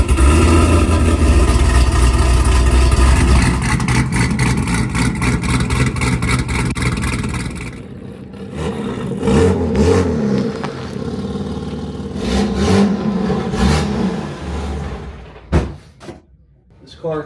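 A modified car fitted with a Billy Boat performance exhaust rumbles loud and close for several seconds, then quiets into softer idling and shuffling while people talk nearby.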